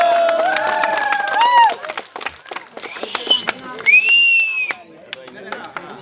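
Crowd claps in a burst of applause at a village award ceremony, the patter rising and falling over about six seconds while whistle-like tones and voices sound through it.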